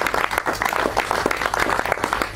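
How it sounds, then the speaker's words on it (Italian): Audience clapping at the Premio Ischitella Pietro Giannone 2024 award evening, a brisk, fairly close patter of many hands throughout the short stretch. "Quindi un applauso"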